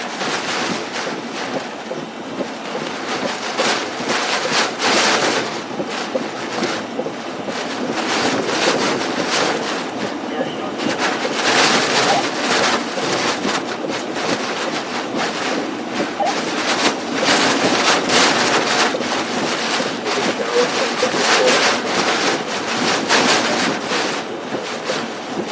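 Strong hurricane wind from Hurricane Ian roars steadily and loudly for the whole stretch, rushing and buffeting against the microphone in sustained gusts, with faint voice fragments buried underneath.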